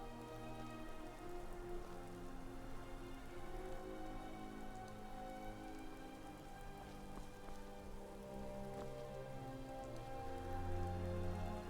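Rainfall in Skyrim keeps up a constant, even patter over a low tonal hum, staying moderate and unbroken throughout and swelling slightly toward the end, with no one speaking.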